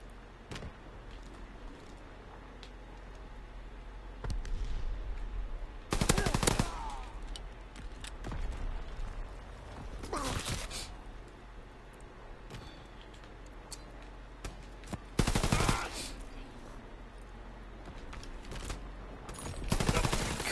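Gold machine pistol fired in Call of Duty: WW2 multiplayer, short loud bursts breaking out every few seconds over a steady background of game ambience and distant gunfire.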